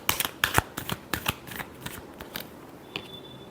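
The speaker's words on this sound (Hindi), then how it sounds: "last shuffle" Tarot cards are shuffled in a quick burst of crisp riffling flutters that thin out into a few softer slaps, close and alone.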